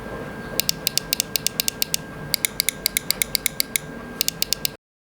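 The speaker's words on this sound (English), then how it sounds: "the mouse clicks are super tactile and sharp and have zero hollow sound whatsoever" Sharp, crisp clicks of a SteelSeries Prime Mini Wireless mouse come in quick clusters over a low background rumble, each one short and tactile with no hollowness, with short pauses between the bursts.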